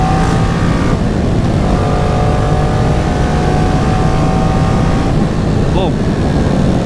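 A 2014 Kawasaki ER6-N motorcycle pulls away and accelerates, its close, loud engine note climbing through rising harmonics under heavy wind rush, with a quick shift near the end.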